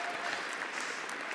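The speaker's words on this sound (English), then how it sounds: "Big applause to everyone!" Audience applause at a BLAST R6 Major Copenhagen esports finals, a dense, steady wash of clapping from a large crowd that fills the whole short stretch without any talk.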